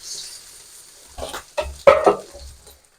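Pieces of rohu fish frying in oil in a wok as they are turned, a quiet hiss broken by several close scraping stirs and clinks of the spatula against the pan.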